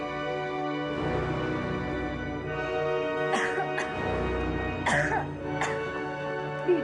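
A woman coughing and clearing her throat, several harsh bursts spaced over a few seconds against a low musical drone, fairly close and clear.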